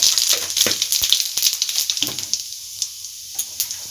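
Whole cumin seeds sizzle and crackle in hot mustard oil in a kadai, a loud dense fry that thins into scattered pops as it settles, close up.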